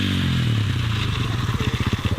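A KTM 450 EXC-F dirt bike engine fires up for its first start, a close, loud mechanical rumble that settles into a fast, rhythmic idle thump with some clatter, no speech.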